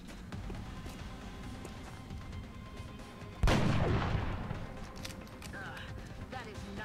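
A single heavy gunshot blast from a sniper rifle in the video game XCOM: Enemy Within booms out midway and decays slowly, over a low steady game background with a voice talking.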